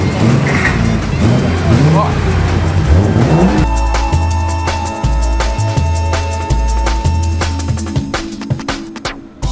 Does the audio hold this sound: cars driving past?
yes